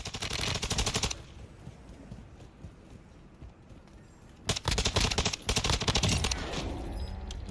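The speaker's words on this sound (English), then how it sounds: "Like someone shot a gun?" Bursts of rapid automatic gunfire from the video game Modern Warfare II, loud close volleys at the start and again in the second half, with quieter rattling between.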